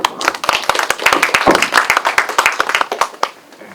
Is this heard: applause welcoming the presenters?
yes